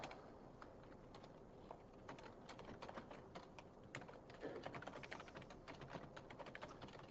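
Rapid, uneven clicks from typing on a computer keyboard, close but quiet, run in bursts throughout with no talking.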